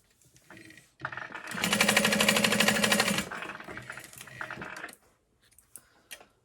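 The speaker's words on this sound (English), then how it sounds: "And I'm top stitching on each end." Sewing machine topstitching the folded raw ends of fabric for a baby sling, a short burst of fast rattling stitching that rises, runs about two seconds, then trails into softer handling clicks and knocks.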